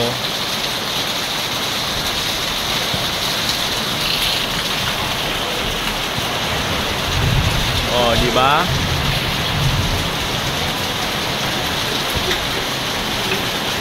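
Heavy rain pours steadily and loudly throughout in Daet, Philippines, a dense hiss that never lets up, with a brief spoken phrase in Filipino partway through.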